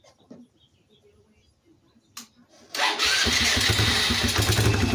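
A Polaris Phoenix 200 quad, choke on, cranks briefly after a few quiet clicks and then fires into a loud, steady idle that continues to the end.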